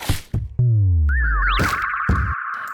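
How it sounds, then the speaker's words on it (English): Sub bass drop from a music sample pack, a deep falling bass tone that sweeps downward under sharp percussive hits and a wavering higher synth line, loud and close. "And then there's a sub bass drop."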